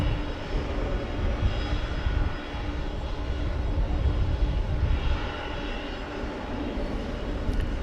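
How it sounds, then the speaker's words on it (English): An Airbus A350-900 jet taking off at night from a west side runway at DFW Airport rumbles in a continuous, loud, broad engine roar that holds steady throughout with no voices over it. "with a west side takeoff. It's an Airbus A350-900 if I remember, yes."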